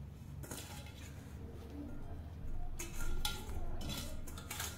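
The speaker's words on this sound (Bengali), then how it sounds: "ধরিয়ে কড়াই চাপিয়ে দিলাম। এবারে যে শাকগুলো কেটে রেখেছি সেগুলো দিয়ে দেব" A wok is set on a gas stove and chopped leafy greens are added, making clinks and clatters of metal cookware that come in a few short bursts over low background noise.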